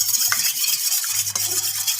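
An egg beaten with salt in a bowl, a soft continuous scraping and swishing stir heard close up and alone, with faint clinks against the bowl.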